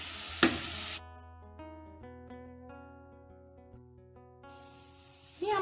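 Soaked masala sizzles as it fries on low flame in a pan with softened ginger and chilli, for a fried mackerel curry; loud hissing bursts open and close the passage, with a quieter tonal stretch between.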